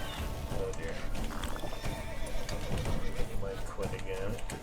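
Roach the horse in a video game neighs and whinnies over clip-clopping hooves, with someone talking over it throughout.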